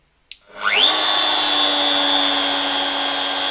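After a sharp click, a machine spindle spins up to speed for cutting an aluminium con rod and holds a loud, steady whine close by.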